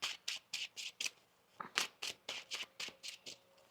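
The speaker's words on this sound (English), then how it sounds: "One more shuffle here." Tarot cards are shuffled by hand, a quick run of crisp riffling snaps and slaps in a steady rhythm, close and fairly quiet.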